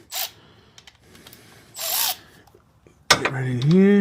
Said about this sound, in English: So let me grab my power tool, see if it fits in there.